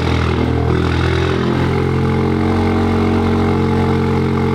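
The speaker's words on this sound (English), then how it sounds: "Okay, cold start, not too bad." Cold-started engine of a VW Mk8 Golf R idling steadily and loudly up close, a deep continuous throaty hum that settles slightly lower about a second and a half in, with no talk over it.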